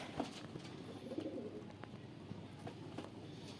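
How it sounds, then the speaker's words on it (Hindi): Banka pigeon, a young bird, cooing softly in low repeated murmurs on a rooftop loft, faint against steady background hum. "ये दोस्तों बांका कबूतर है।"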